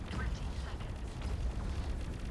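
Gladiator ship opening fire in the space combat game Fractured Space, a dense continuous roar of booming weapon blasts and explosions with steady loudness throughout.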